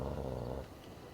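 A war dog in the video game Dragon Age: Origins growls low and steadily for about half a second, then the rumble fades into quiet background.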